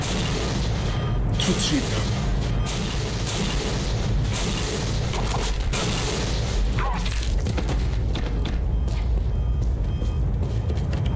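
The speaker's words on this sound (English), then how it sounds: "Who's the cheap idiot shooting missiles at me?" Missile explosions in the video game Postal 2, dense booms and bursts packed into a continuous loud roar of chaotic combat noise, with a voice speaking briefly.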